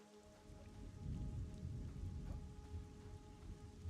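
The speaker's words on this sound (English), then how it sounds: "It's raining." Rainfall in the video game Pantheon: Rise of the Fallen, a soft continuous wash of rain with a low rumbling undertone and faint droplet patter, heard alone.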